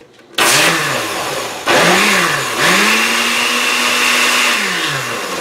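A countertop blender whirs loudly as it mixes eggnog with imitation rum extract, starting in short bursts before settling into one sustained run with pitch rising and dipping as the load shifts.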